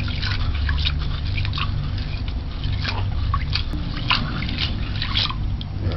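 Peas being rinsed by hand in a bowl of water, with steady splashing, swishing and dripping close up, continuous throughout without talk.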